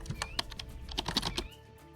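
Typing on a phone's on-screen keyboard in the Chrome browser, a quick run of light, irregular taps close by with a few sharper clicks, settling to quiet near the end.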